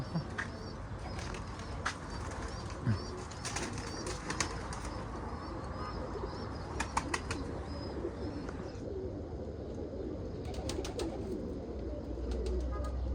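Homing pigeons of an Iraqi breed cooing in a loft, soft repeated coos over constant rustling and background noise, with occasional wing flaps and faint chirps; moderately distant.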